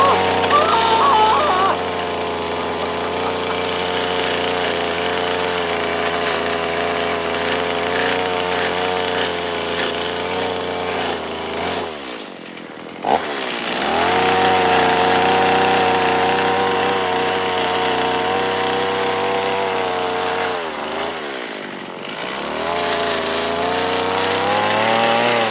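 A chainsaw is carving a wooden fish, with the engine at a loud steady whine for long stretches and two brief dips where the throttle drops before revving back up.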